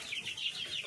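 A rooster or hen clucks in a poultry coop, a short close run of throaty clucks against steady background noise.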